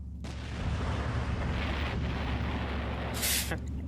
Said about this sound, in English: Anime explosion sound, I love it.